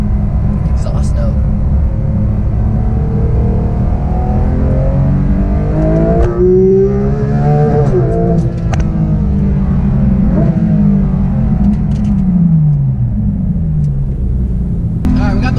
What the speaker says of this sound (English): I want to catch this exhaust note.